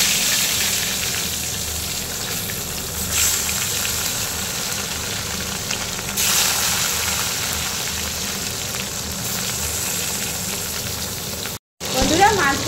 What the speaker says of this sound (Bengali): তেলের মধ্যে দিয়ে ভেজে নেব।